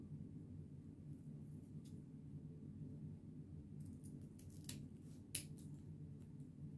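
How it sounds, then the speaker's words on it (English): Scissors snip through material for a handmade bow, a few quick, soft cuts near the end over a low, steady background hum. "Cut this side at a slant. And I'm cutting towards the outside."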